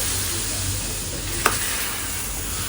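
A steady hiss of sizzling oil fills the clip, with one brief sharp crackle as hot tempering is poured onto kadhi.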